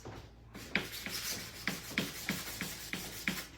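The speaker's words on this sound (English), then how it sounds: "I'm just going to do a light sanding on this one." Light hand sanding on a painted vintage oval plaque frame with slightly wet paint: about ten quiet, close, evenly spaced rubbing strokes, with no voices.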